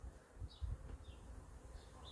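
A wild bee swarm in New Zealand buzzes, a soft continuous insect drone heard at a distance with a few louder passes of individual bees and faint background hum.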